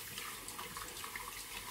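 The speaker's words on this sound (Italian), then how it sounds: "e poi mi sciacquo il viso" Warm water runs from a bathroom tap as a face is rinsed during wet shaving, a steady, soft splashing hiss close by with no talking.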